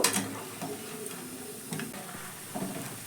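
Mixed vegetable pakoras fry in hot oil, giving a steady soft sizzle and crackle with small scattered pops and occasional stirring clinks, close by and fairly quiet, with no talking.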